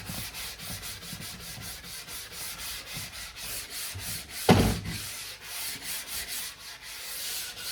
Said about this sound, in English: as we're brushing, we're just kind of polishing that material, getting a good finish on our base